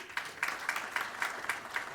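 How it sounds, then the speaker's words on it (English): Applause for a guest at a conference on electric mobility, heard fairly faint and distant, with a regular rhythm of individual claps standing out above a soft, thin background of clapping. "May I please have a huge round of applause for him?"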